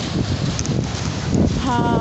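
Blustery wind buffets the microphone in a low, rumbling roar, with faint voices in the background.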